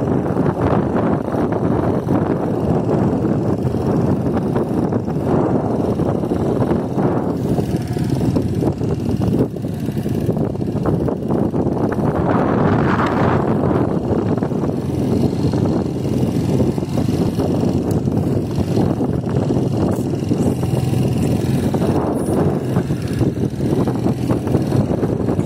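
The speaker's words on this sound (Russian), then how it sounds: "звук может быть немножко с ветром" Steady wind buffeting a microphone outdoors on the steppe, a constant low rumbling roar that swells and eases throughout with no clear pauses.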